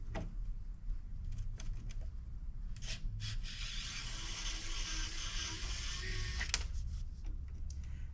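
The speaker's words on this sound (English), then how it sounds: "So you want to get those thumb screws out. I have one of my Kaiweets loaded with a socket." A Kaiweet electric screwdriver fitted with a socket backs thumb screws out of electronics being scrapped, giving a faint whirring buzz in short runs with small clicks and scrapes over a low background rumble.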